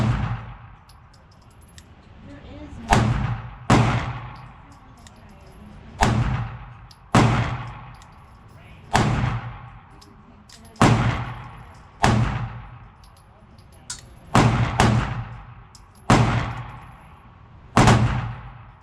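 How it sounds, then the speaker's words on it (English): FN Reflex Micro 9 pistol with a Holosun optic firing 115 grain MagTech rounds at about seven yards: eleven sharp, loud shots spaced roughly every one to two seconds, each with a short decaying report. "We're shooting 115 grain MagTech."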